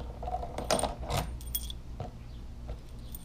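A ring of keys for locking motorcycle saddlebags on a Harley-Davidson FXDLS Dyna jangles up close in a few short metallic shakes, followed by softer clinks.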